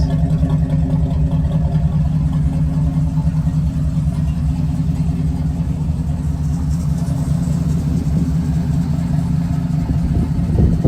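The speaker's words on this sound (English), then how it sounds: "It's got straight pipes and hence the exhaust noise." A loud, steady engine rumble from a 1975 Ford Bronco's straight-pipe exhaust, running continuously and close by with deep low throb.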